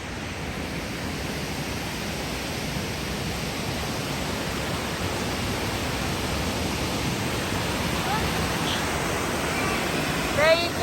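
A rushing waterfall in western Massachusetts roars as a steady, dense wash of broadband noise that holds even across the clip, close and loud, with a brief faint voice near the end.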